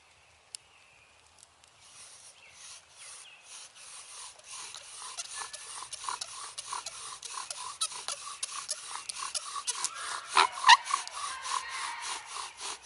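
A short wooden spindle spins in a bow drill against a wooden fireboard, giving rhythmic rasping back-and-forth strokes that start faint and build steadily in loudness and pace.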